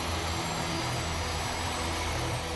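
A Russian Mi-17V5 military helicopter in flight toward a base in the Donbas, a loud, steady, dense roar of engine and rotor noise with no breaks.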